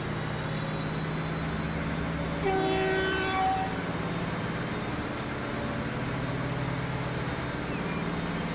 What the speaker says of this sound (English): I can see another train out there